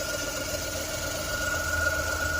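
A running car engine with a newly fitted V-belt giving off a steady high-pitched whine over a low mechanical hum, continuous and close, with no talk.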